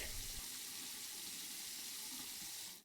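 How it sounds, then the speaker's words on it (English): Water runs steadily from a bathroom tap while a face mask is rinsed off in the Roblox Bloxburg game, a continuous even hiss with no pauses for about three seconds. "I rinse off my face mask."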